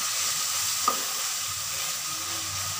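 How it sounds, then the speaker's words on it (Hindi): Chicken karahi sizzles steadily in the pan as ground green chillies are mixed in, a continuous frying hiss with one brief scrape of the spoon, close and with no speech. "अब इसको अच्छे से मिक्स करना है।"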